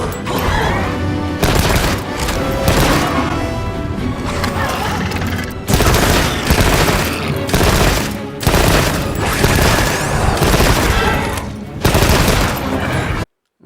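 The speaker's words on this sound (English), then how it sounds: "Immediately shown off that rapid fire is much faster." Light bowgun rapid fire in Monster Hunter Wilds produces loud, dense bursts of gunshots that stream in quick succession, with brief pauses and booming impacts layered under game effects.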